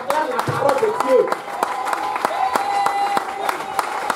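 A church congregation applauding and cheering, a mass of overlapping claps with a few louder smacks standing out, with voices calling out amid the clapping.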